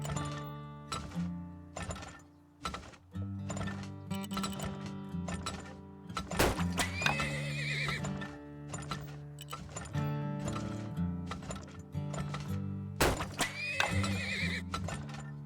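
Horses in the oil-drilling game Turmoil neigh and whinny loudly several times over a steady clip-clop of hooves, with occasional thunks mixed in and no voice over them.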